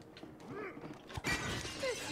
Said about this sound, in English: This is cool to break glass. It's awesome.